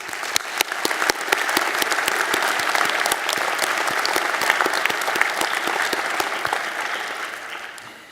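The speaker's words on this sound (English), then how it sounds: "Let's give them a round of applause." Sustained applause from a large commencement audience at a medical school graduation, honoring families, spouses, partners and friends; dense steady clapping throughout, fading slightly at the end.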